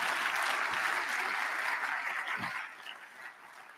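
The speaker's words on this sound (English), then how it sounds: "A round of applause for John Pising" An audience at a London industry symposium applauding a presenter, dense clapping that holds steady then thins and fades out toward the end.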